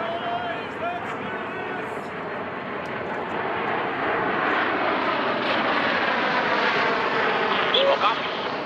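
Jet aircraft of a Fleet Week air show over San Francisco Bay near Alcatraz roar overhead in a loud, sustained rumble that swells steadily, with voices talking over it.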